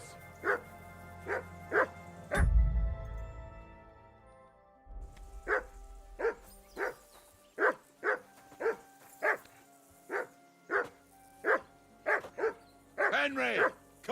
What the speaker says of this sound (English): Henry, call off that damn dog